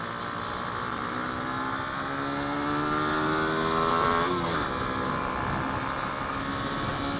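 A Hyosung Comet 250 motorcycle accelerates on a cold highway outside Buffalo, its engine a steady drone that rises in pitch, then shifts and settles, with wind roar underneath and no talk.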